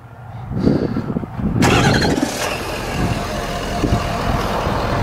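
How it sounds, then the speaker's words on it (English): A 2013 Ford F350 Super Duty King Ranch with the Powerstroke engine starts by remote start, a short cranking whir catching into a loud rumble that settles to a steady idle nearby. "Just basically hit lock and hit the remote start button twice."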